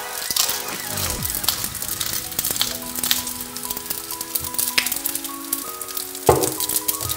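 Food sizzling and frying in a pan with chili spice as it is stirred, a steady crackling hiss with a few clinks and scrapes of the utensil, close and continuous.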